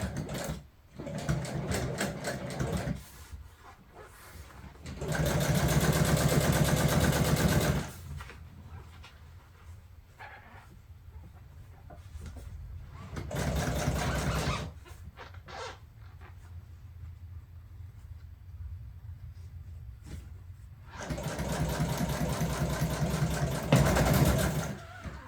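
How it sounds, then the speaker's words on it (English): Sewing machine top-stitching a folded white line on MGB car seat upholstery, running in several steady mechanical bursts of a few seconds each, with quiet pauses between them. "We're going to do a top stitch."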